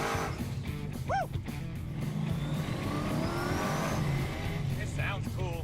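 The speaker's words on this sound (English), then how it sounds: "Take a tired out old 6-liter truck motor, bolt on some AFR heads and a supercharger, and it is badass." A hot rod powered by a tired 6.0L LS truck engine fitted with AFR heads and a supercharger accelerates hard, its engine roaring with rising revs and supercharger whine while people talk and whoop over it.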